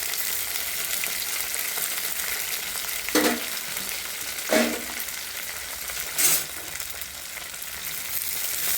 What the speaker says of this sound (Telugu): కొంచెం మిరపకాయలు కొంచెం మంచిగా ఫ్రై కావాలి